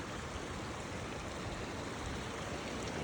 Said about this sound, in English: So I crossed the stream here.